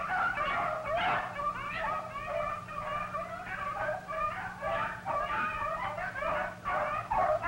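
Pack of hunting dogs baying and yelping on a cottontail rabbit's trail, with overlapping barks and whimpering yips in a steady, continuous chorus at moderate distance outdoors, without talk.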